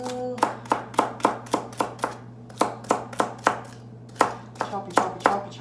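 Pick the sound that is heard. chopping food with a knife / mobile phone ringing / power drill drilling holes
chopping food with a knife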